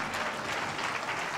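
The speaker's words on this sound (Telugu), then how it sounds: "చప్పట్లు కొట్టండి గట్టిగా" A church congregation at a Sunday service claps loudly together, a dense, continuous wash of hands close by that holds steady without pause.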